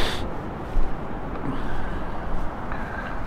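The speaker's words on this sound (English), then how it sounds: "That is ocean waves." Ocean waves of the Gulf of Mexico at Sea Rim State Park make a steady, broad, rushing roar that swells slightly now and then, filling the background without any voices.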